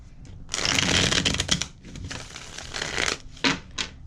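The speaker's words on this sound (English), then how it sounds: "shuffle this up again, because I'm seeing a couple of cards that's within close proximity of each other" A deck of tarot cards is shuffled up close in several loud, rapid riffling bursts with brief pauses between them, and no talk is heard.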